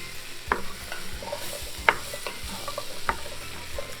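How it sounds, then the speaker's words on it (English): Diced potatoes and carrots sauté with onions and garlic in a pan, giving a steady sizzle cut by several scraping stirs of a spoon at a close, moderate level. "I'm going to saute these along with the onions and garlic."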